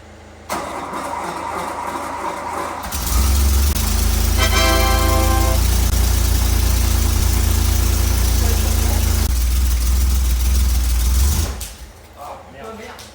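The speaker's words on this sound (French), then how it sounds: "Il était temps de démarrer, enfin du moins essayer de démarrer." An Alpine car engine with rebuilt motor and changed compression ratio cranks on a booster and fires up, roaring loud and close at steady idle for several seconds before cutting off.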